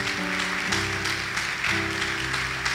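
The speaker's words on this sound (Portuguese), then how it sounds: "Você pode aplaudir o Senhor? Por favor, faça isso." A church congregation applauds during a Sunday morning service. The clapping is steady and moderately loud, with sustained organ or keyboard tones and faint voices under it.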